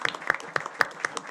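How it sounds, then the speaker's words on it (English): A handful of people at a Board of Education meeting clap sparsely for a brief moment, giving a few distinct, uneven claps close by. "let's give a congratulatory applause for Mr. Schofield and this great accomplishment"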